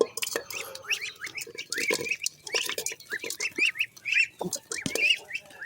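Hungry ducks quack in a rapid, overlapping chorus of squawky calls close by, mixed with clattering sounds and occasional voices talking.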